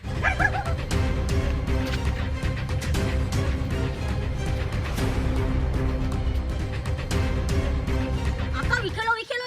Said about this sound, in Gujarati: કદાચ કૂતરું ભાગતું ભાગતું બહાર આવશે